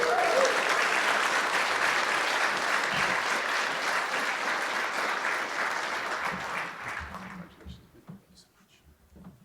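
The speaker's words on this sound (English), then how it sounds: "Let's give them one more round of applause." Sustained audience applause fills an honors convocation hall at a medical school awards ceremony, loud and even for about seven seconds before thinning into scattered claps and quiet.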